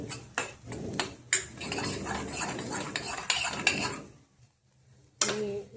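A spoon stirs and scrapes thickening sukki dal in a metal pan, giving a run of uneven clinks and scraping strokes, then a short pause and one more sharp scrape, with no talking.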